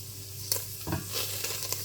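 Minced meat sizzles and crackles steadily as it browns in a hot pan, with a few louder scraping stirs partway through; no talking.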